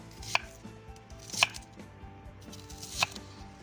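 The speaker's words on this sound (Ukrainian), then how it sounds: "перець трошки крупніший, ми його підріжемо так" A kitchen knife chops a pepper into chunks on a board while vegetables for a cauldron stew are prepared outdoors: three crisp, evenly spaced cuts, close and distinct, with no talking.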